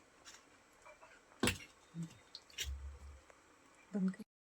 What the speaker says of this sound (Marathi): जे थोडंसं पीठ आपण ठेवलं होतं ते पाण्यामध्ये मिक्स करून त्याच्यामध्ये टाकूया